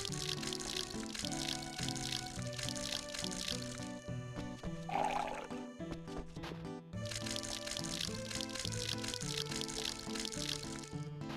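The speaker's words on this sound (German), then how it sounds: "Gießen, gießen, gießen." Crops being watered in Rune Factory 4 give repeated pouring and splashing bursts, a short pause in the middle, set against continuous game music, with no talk.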